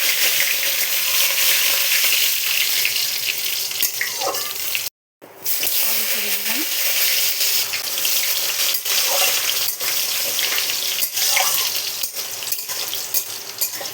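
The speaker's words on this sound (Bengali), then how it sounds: "তেল গরম হয়ে গেছে, দিচ্ছি শুকনো লঙ্কা, দিচ্ছি সাদা জিরে, দিচ্ছি গোটা গরম মশলা, তেজপাতা" Dry red chillies, cumin, whole garam masala and bay leaf hitting hot mustard oil: a loud, dense crackling sizzle, close up, cut by a momentary silence, then steady frying with occasional stirring clicks.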